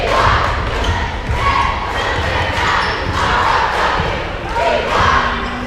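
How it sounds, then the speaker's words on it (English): A rowdy home crowd roars steadily through a high school boys' basketball game against Moscow, with dull ball bounces and thuds under the broad, continuous noise. "Hawks crowd getting rowdy."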